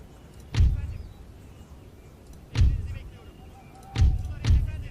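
Cannon volleys in the strategy game Empire: Total War, a battlefield with artillery pieces: four heavy booming shots spaced over a few seconds, the last two close together, each with a deep rumbling decay.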